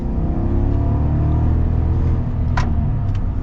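A 2023 Chevrolet Silverado 1500 LTZ pickup with the 5.3-liter engine pulls ahead, its deep, steady drone filling the cab at close range. A short, faint click sounds near the end.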